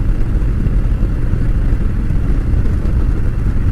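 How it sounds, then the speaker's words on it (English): A Harley-Davidson bagger motorcycle engine running, a loud close rumbling throb that stays steady throughout without pauses. "The sound the engine makes, sorry, nothing beats a Harley."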